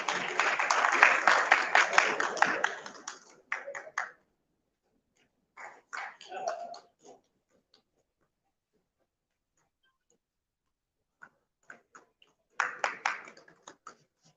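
An audience at the inauguration of an education expo gives a round of applause, with a burst of clapping that fades away, then scattered single claps, and a short second burst at the end.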